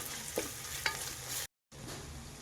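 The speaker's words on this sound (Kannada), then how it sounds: "ಇದು ಸಹ ಚೆನ್ನಾಗಿ ಹಸಿ ವಾಸನೆ ಹೋಗೋವರೆಗೂ ಫ್ರೈ ಮಾಡ್ಕೋಬೇಕು" Ginger garlic paste frying in a pan, a steady close sizzle with two brief stirring scrapes, then a short dropout before the frying hiss resumes.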